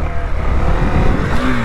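A KTM Duke 390 motorcycle engine revs loudly and close on the throttle, a dense rising roar lasting under two seconds.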